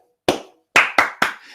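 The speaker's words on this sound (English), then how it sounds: "my body percussion, I always start with a clap, 2-finger clap." Four sharp hand claps as body percussion: one alone, then three in quick succession after a short pause, loud and close with no talking.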